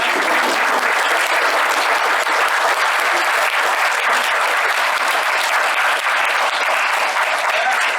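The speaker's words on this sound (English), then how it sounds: "Let's give them one more round of applause." A steady, dense round of audience applause at a school board meeting, loud and continuous for the whole stretch with no voices standing out.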